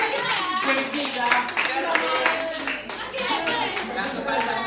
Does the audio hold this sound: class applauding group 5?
yes